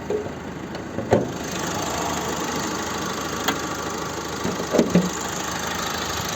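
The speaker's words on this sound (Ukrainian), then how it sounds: "Ось робота двигуна." A 2018 Opel Astra K 1.6 diesel engine idles steadily and close, a constant rumbling drone broken by a few faint knocks and clicks.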